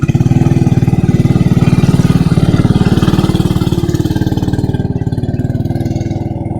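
A Tecumseh small engine on a 1975 Owosso Exalter tractor, with a governor fault, runs loud and close with a fast, even chugging pulse that eases slightly toward the end.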